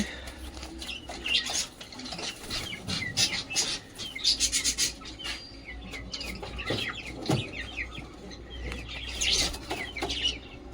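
Pigeons, a male and female pair, make soft, irregular calls and chirps with scattered rustling, fairly faint and close in a quiet home setting.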